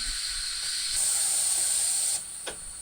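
Steam bursts from a pressure cooker opened after slow-cooking lamb, a loud steady hiss that rises in strength, holds for a couple of seconds, then drops away with a brief final puff.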